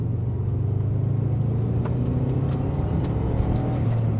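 A turbocharged 1996 Subaru WRX Tommy Kaira M20b engine roars steadily under hard acceleration, a deep sustained rumble with faint whistling highs, loud and close throughout, no voices.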